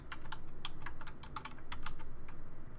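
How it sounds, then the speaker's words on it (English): Keys clatter on a computer keyboard as a database name is typed, a quick, close run of crisp clicks in an uneven rhythm with no voices. "I start by typing the name of the database"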